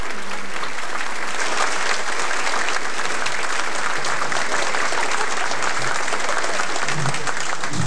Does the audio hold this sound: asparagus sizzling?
no